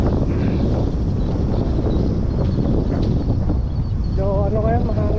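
Strong wind roars and buffets the microphone in a constant, loud rush, with a faint voice briefly audible beneath it near the end.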